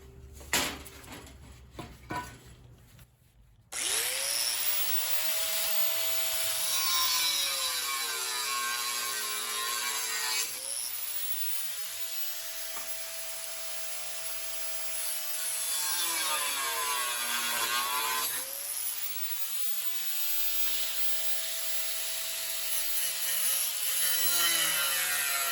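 An angle grinder cuts the corners off metal pieces during a VW MK1 electric conversion battery charger install, a loud sustained whine dipping in pitch as the disc bites, broken by short pauses after scraping noises at the start.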